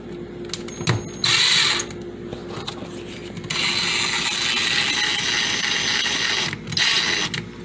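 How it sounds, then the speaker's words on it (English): A power drill whirs in bursts while replacing an electrical receptacle: a short run, a pause, then a long steady spin and a final brief burst, with clicks between. "I'm gonna go ahead and use my drill real quick."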